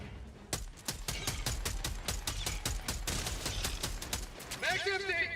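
Sustained rapid gunfire in Helldivers 2 rattles steadily as a weapon empties its magazine, sharp repeated shots for several seconds, ending with a brief squealing, whining effect and voices faintly in the mix.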